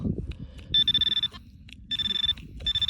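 Metal detector beeping while hunting for old coins on a farmer's field: two long, warbling electronic tones and a shorter third, close and clear over low scraping and rustling handling noise.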